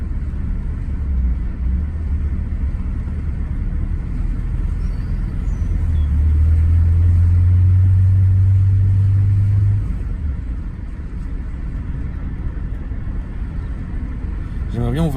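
Rolls-Royce Silver Shadow engine on the move, a deep steady rumble with a swelling low drone in the middle as the car pulls, while someone talks over it throughout.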